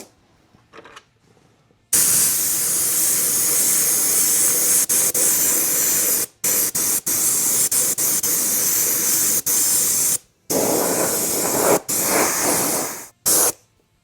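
An airbrush at very high air pressure sprays aqua paint onto a Proline NASCAR truck body for a Kyosho Dune Master RC car, giving a loud steady hiss in long bursts with sharp stops and short silent gaps.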